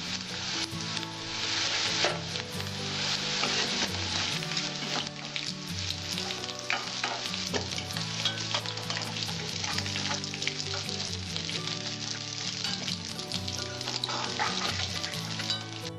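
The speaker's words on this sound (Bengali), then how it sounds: "আমার আলুটা হালকা করে ভেজে নিয়েছি, আমি এবার তুলে নিচ্ছি।" Lightly fried potato pieces sizzling in hot oil in a pan as they are lifted out; a steady, dense crackle runs throughout with occasional sharper pops and light scraping, close up and without talk.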